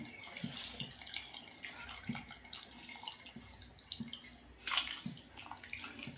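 Tamarind water strained and poured into a cooking pot for sundakkai kuzhambu, a faint continuous trickle and splash with scattered drips, quiet and close, with no voices.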